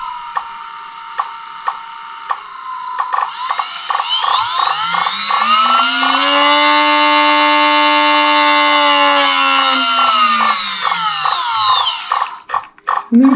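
An RC brushless ESC driven by a ToolkitRC M9 charger's test function makes the motor beep in a rapid series of tones, then a long whining tone sweeps up, holds and glides back down, ending in choppy beeps.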